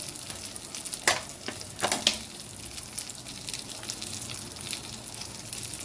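Fish frying in a pan gives a steady, fairly quiet sizzle with a few sharp crackles and pops near the middle, with no voices over it.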